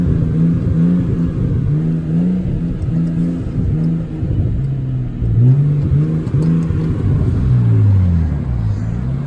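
Nissan Skyline R34 GTT fitted with a Titan muffler revving close by: a deep, steady exhaust rumble that rises and falls in repeated throttle blips with no one speaking.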